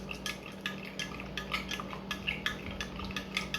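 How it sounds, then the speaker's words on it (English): A mixture is stirred in a container, a steady rhythm of soft clinking scrapes from a utensil against the sides, close by over a low constant hum. "Keep stirring it up like that."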